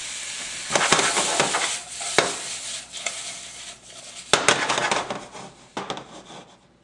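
Shrimp and onion stir-fry in sesame oil with an uneven crackling sizzle, broken up by sharp clacks and scrapes of a utensil against the pan, close and fairly loud, with no talking.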